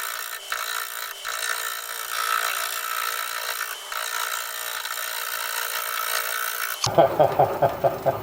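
A 5/8 inch bowl gouge cuts very hard wood spinning on a lathe at about 430 RPM, giving a steady loud scraping, rasping drone that runs for several seconds before breaking into a few short choppy knocks near the end.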